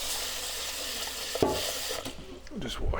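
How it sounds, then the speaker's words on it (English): Rice being washed in water, with continuous swishing and stirring in a pot and a few splashy scrapes and clinks near the mic, no talking. "Just wash the rice."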